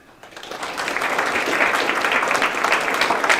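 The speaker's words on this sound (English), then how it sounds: "we're going to clap" An audience at a scholars program information session breaks into clapping that swells quickly and holds as a steady, dense round of applause.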